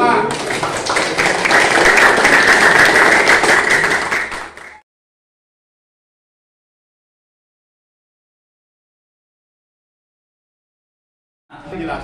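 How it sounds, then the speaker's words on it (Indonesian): Classroom clapping from students during a lesson, a dense burst of hand claps lasting about four seconds, then silence. "tepuk tangan untuk kita semua."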